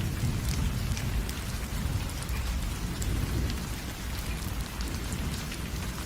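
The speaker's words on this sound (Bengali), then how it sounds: "আর তখনই আচমকা প্রচুর বৃষ্টি শুরু হয়।" Heavy rain pours down in a dense, unbroken hiss, with deep thunder rumbling low beneath it, steady and moderately loud with no voices.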